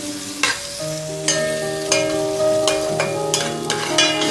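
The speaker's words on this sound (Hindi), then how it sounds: "ये चॉप्ड अनियन ऐड करेंगे इसमें, साथ ही ये दालचीनी की जो स्टिक्स हैं ये भी डाल देंगे और इसको हल्का सा सौते कर लेंगे" Chopped onion and cinnamon sticks sautéing in a pan, a close sizzle broken by several sharp spatula scrapes and stirs at roughly regular intervals.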